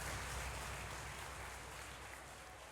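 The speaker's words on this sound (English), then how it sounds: "Trumpets sound, the crowd clamours" A tournament crowd clamouring in the Crusader Kings 3 video game, a dense, steady wash of cheering and applause-like noise that fades slightly toward the end, with no speech.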